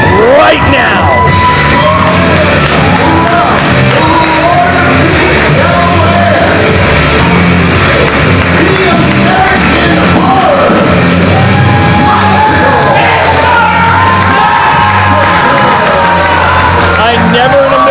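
Crowd at an indoor professional wrestling show cheering, yelling and whooping loudly throughout, with individual shouts rising above the roar and voices shouting over the noise.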